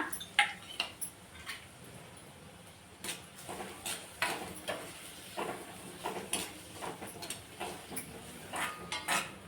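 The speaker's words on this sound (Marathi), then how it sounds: "कांदा गुलाबी होईपर्यंत परतून घ्यायचा आहे आपल्याला" Chopped onion is sautéed in a pan for a gram-greens bhaji, with a metal spatula repeatedly clinking and scraping against the pan in a steady, uneven rhythm, close by and with no talk.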